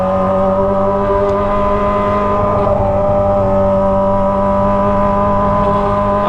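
A Kawasaki ZX25R motorcycle with a loud Toce aftermarket exhaust drones at high revs, a steady screaming whine with strong harmonics, very loud and close throughout.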